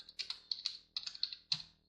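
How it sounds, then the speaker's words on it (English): Quiet, close clicks of keys on a computer keyboard in quick, uneven bursts, with short pauses between groups and no voices. "I just hit enter on my keyboard"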